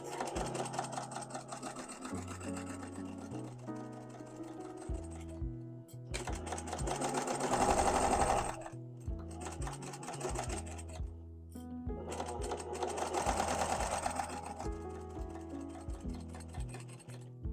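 A sewing machine runs steadily, stitching fabric for a small drawstring travel jewelry pouch, its rapid mechanical chatter in bursts with brief pauses between runs, close and clear with no talking.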